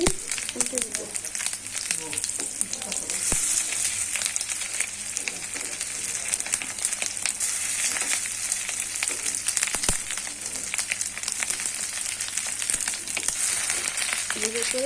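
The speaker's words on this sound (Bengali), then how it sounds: "আমি সবগুলো টিকিয়া উল্টে পাল্টে ভালোভাবে ভেজে দিয়ে" Rui fish roe kebabs (tikia) fry in oil in a pan, producing a steady, close sizzle with scattered sharp crackles and pops throughout, a faint voice occasionally underneath.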